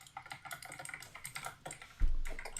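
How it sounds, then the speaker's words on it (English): Rapid clicking keystrokes on a computer keyboard, close and fairly loud in an irregular patter, with a low thump near the end and no talking. "It's typing louder than Brickopotamus"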